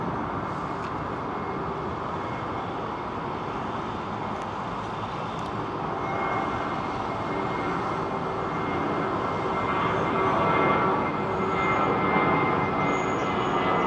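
A British Airways jet departs London Heathrow, its engines a sustained, rumbling roar that swells gradually louder toward the end, with no voices over it.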